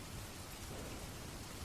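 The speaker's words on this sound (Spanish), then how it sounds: "Aquella noche llovía." Steady rain falling as dark storm ambience, a dense even hiss with low rumbling underneath, continuous and moderately close, with no voices.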